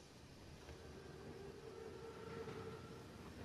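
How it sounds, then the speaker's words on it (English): A train in the Call of Duty WW2 campaign rumbles past in a continuous, faint low roar with a steady mechanical hum, no voices over it. "Train's right on time."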